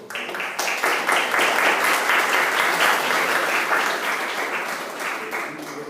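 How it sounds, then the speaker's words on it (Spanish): An audience at a university presentation on topographic modelling claps, a dense, loud round of applause that holds steady for several seconds before easing slightly. "¿Le podemos dar un aplauso?"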